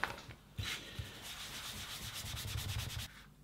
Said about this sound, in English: So we'll take a soft cloth and just vigorously give it a rub.